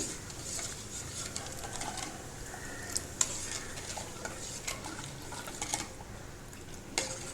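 Sugar being stirred into boiling milk for a tender coconut pudding, giving a steady close scraping and swirling with a soft bubbling sizzle underneath, continuous for several seconds with no voices.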